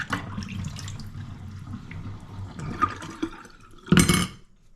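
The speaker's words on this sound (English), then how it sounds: "an extendable faucet here. It sprays like so" Extendable faucet on a stainless steel utility sink: water hisses and splashes steadily into the basin, with a louder, brighter burst of spray near the end, close and moderately loud.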